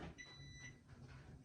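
A kitchen oven timer on a home stove goes off while a pineapple upside-down cake bakes, giving faint, repeated high electronic beeps in a quiet room.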